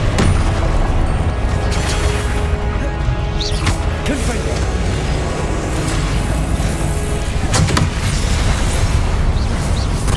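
Blasting spells in Hogwarts Legacy go off in a string of heavy booms and crashes amid loud, continuous combat noise, with a few sharper impacts standing out.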